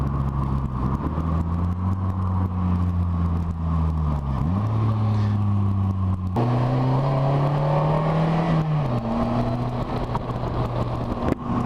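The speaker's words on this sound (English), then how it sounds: "Rev matching is super simple with it. It's a quick blip of the throttle. It's a very responsive motor and throttle mapping" Engine of a 2015 Polaris Slingshot revving and rising in pitch through the gears while driving, with quick throttle blips between shifts; loud, close and continuous with no talk.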